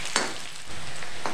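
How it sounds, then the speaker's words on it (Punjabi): Chopped onion frying in a pan for aloo methi bhurji, a steady soft sizzle that runs throughout, with a few brief clatters of stirring, close and alone. "ਪਿਆਜ਼ ਨੂੰ ਆਪਾਂ ਭੁੰਨਣ ਦੇਵਾਂਗੇ ਭੁੰਨ ਦੇਵਾਂਗੇ"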